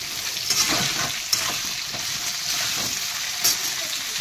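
Vegetable stalks frying in a pan for a poppy-seed curry, a steady loud sizzle with a few sharp crackles and stirring scrapes throughout.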